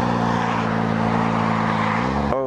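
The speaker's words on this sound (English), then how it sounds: "So you can just get a sense of that acceleration that this thing has." A Yamaha FZ6R sport motorcycle accelerating hard, its engine drone loud and steady, then rising sharply in pitch at the end as the revs climb.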